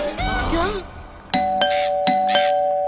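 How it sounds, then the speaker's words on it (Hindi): A voice speaks briefly, then a doorbell chimes twice, each a clear two-tone ding-dong ringing out near and loud. "अरे कोई घंटी बजा रहा है और तुम दरवाजा नहीं खोल रहे हो?"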